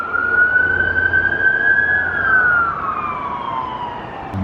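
Emergency vehicle siren passing on a Buffalo, New York street, one loud sustained wail that rises and then slowly falls as it goes by, over steady traffic rumble.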